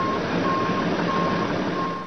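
A tow truck backs up while hooking a white van at an outdoor event, its reversing alarm beeping in a steady, evenly spaced rhythm over a loud, continuous engine rumble.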